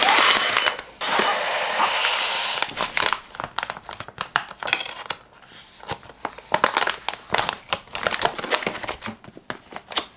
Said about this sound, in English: I used a straw to suck out all of the air in the bag and seal it tight.